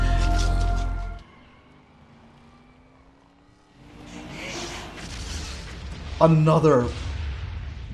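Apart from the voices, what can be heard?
explosion in the film The Crow (1994)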